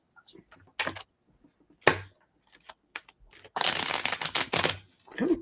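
Cards riffled in a shuffle, a loud dense burst of crisp flutter near the end after a few sparse clicks and taps.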